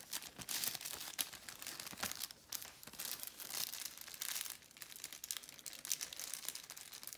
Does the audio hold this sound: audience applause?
no